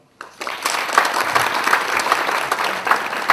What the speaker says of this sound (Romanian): Vă mulțumim și vă aplaudăm!